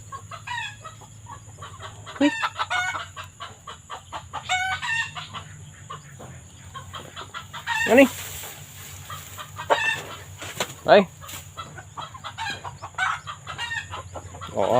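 A hen clucks among her chicks in a rural Thai yard, with repeated close clucks, high chick peeps and a rooster crowing now and then, loud and irregular against a steady background hum.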